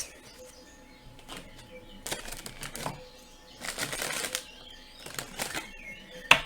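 A deck of cards is shuffled in several quick riffling bursts separated by brief pauses, close and crisp, with no voices.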